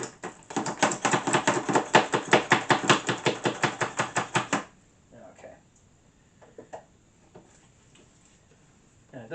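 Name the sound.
chopping onions with a knife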